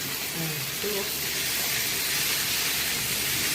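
Tomato pieces go into a hot pan while dal fry is cooked for dinner, giving a steady, fairly loud broadband sizzle and hiss that holds evenly throughout without breaks.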